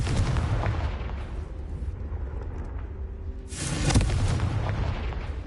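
A blasting spell in Hogwarts Legacy sets off a deep booming explosion, with a sharp burst near the end over a rumbling low background, loud and without speech.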